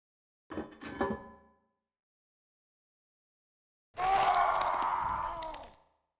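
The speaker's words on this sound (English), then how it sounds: "you just heard somebody fucking scream as well" Two isolated vocal bursts in Silent Hill 2, a short cry followed after a pause by a longer sustained scream, with silence between.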